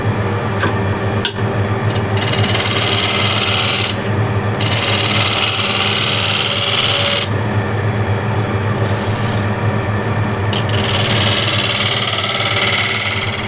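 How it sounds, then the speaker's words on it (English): A regular shoe scraper drags steadily across a workpiece, giving a loud, continuous rasping scrape with brief shifts in texture and no talk. "Now I can finish the rest of it with a regular shoe scraper."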